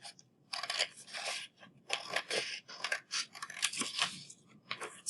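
Scissors snip off excess folded paper in a quick, close sequence of crisp cuts with short gaps between them.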